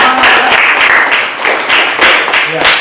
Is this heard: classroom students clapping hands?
yes